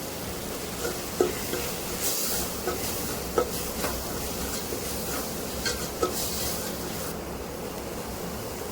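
Spoon scraping and stirring spice masala with chili powder and mutton masala in a pan for idli tripe curry, amid a steady sizzling hiss, with occasional sharp clinks against the metal.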